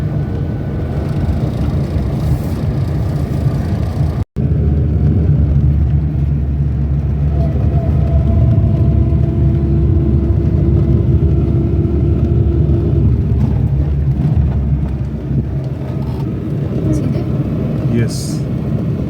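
Car engine drones and rumbles steadily as the car accelerates in second gear along narrow lanes, the engine noise constant beneath a voice giving instructions.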